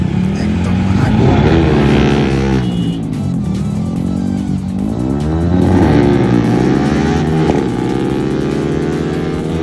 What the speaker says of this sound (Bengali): বাইকের এক্সস্টের কি সাউন্ড, বাপরে বাপ, একদম আগুন